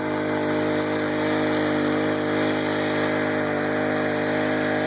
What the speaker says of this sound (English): Got her cranked up pretty good.